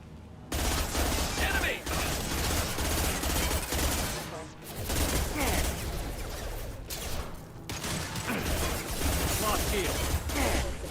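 Rapid pistol gunfire in the video game Mass Effect 2, dense loud bursts of shots nearly continuous across the clip with brief gaps, mixed with game effects.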